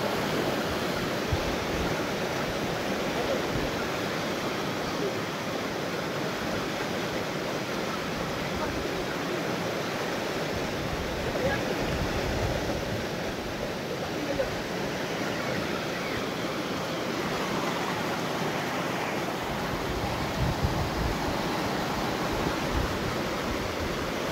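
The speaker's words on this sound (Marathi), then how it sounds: "पाण्यात प्रेशर बघा किती आहे तो." Water rushes under strong pressure at a river fishing spot, producing a loud, continuous churning roar with a low rumble underneath.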